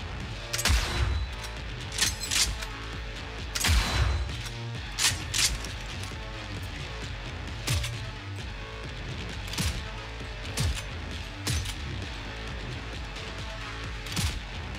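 Gunshots ring out in Cyberpunk 2077 as scattered sharp cracks and short bursts over a steady rumbling background, loud and close with irregular spacing.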